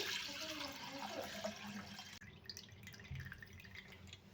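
Water drips and trickles steadily as it drains off soaked semolina, close to the microphone, with a faint voice in the background.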